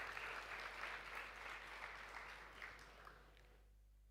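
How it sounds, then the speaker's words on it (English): An audience at a 2021 African innovation-hub gathering gives a sustained round of applause, steady and fairly distant, fading out near the end with no talk over it. "Please give yourself a round of applause."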